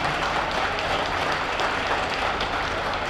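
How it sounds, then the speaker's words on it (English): A crowd applauds steadily throughout at a high school wrestling meet, a dense wash of clapping with no pauses. "Let's give these folks, athletes, parents, coaches, a big round of applause."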